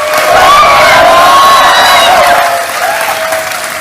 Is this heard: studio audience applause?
yes